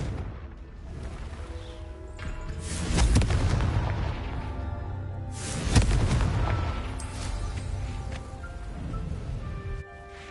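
Confringo fire spell explosions in the Hogwarts Legacy video game, two heavy booming blasts with rumbling tails over a continuous game ambience and music, no talking.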